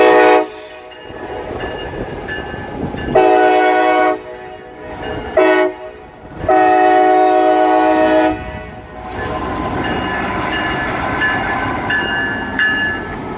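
A CSX diesel locomotive rumbles nearby while its loud horn blasts several times in long and short bursts, followed by the engine's continuing roar.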